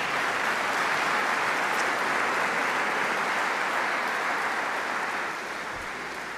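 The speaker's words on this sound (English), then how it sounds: "Give yourselves a round of applause" A worship congregation on a Sunday morning claps in a thick, continuous wash of applause that holds steady and then tapers slightly near the end.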